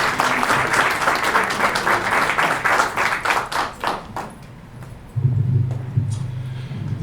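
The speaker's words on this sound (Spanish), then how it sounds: "Fuerte los aplausos para él" Applause from an audience at a Guayaquil lecture welcoming a doctor, dense clapping for about four seconds that thins out, followed by a low hum.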